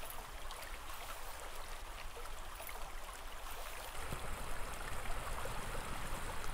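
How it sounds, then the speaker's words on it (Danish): Lindenborg stream flowing near its spring in winter at normal water level, a continuous close rushing and trickling that grows fuller and louder partway through. "Her er vi ved åen om vinteren, tæt på springkilden, ved nogenlunde normal vandstand."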